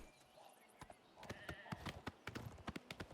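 Horse hooves clip-clop in Oblivion Remastered, a steady run of sharp hoof strikes at moderate distance with a voice talking over part of it.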